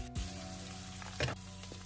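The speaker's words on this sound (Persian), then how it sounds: "تو مرحله سرخ هی این ور اون ورش میکنم تا همه جاش طلایی بشه" Meat frying in oil in a pan for a stew with squash and yellow plum leaves, a steady close sizzle with a brief stirring scrape as the pieces are turned.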